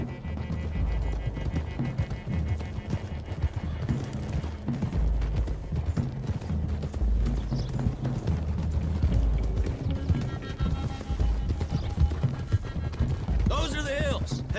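Horses galloping in Red Dead Redemption 2, a rapid continuous clatter of hooves close by with rumbling low end and a whinny near the end, while a voice talks over it.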